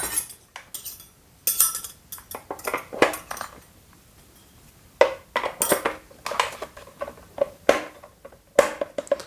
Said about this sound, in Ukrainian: Зараз давайте встановимо насадки.